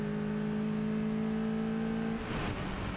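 Race car at the Spa circuit pulling hard in fourth gear downhill, a loud steady engine drone with harmonic whine, then a sharp drop and shift in pitch near the end as the engine note changes.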